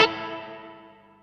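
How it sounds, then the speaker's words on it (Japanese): A single electric guitar chord played through a multi-effects unit set to hall reverb rings out and fades smoothly into a long, spacious tail over about a second. "こういうホールの響き。"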